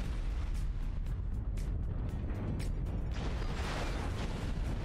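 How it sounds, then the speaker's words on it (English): Artillery strike explosions in a MechWarrior game: a continuous heavy rumble of booms and bursts, loud and close, with no talk. "Artillery strike activated."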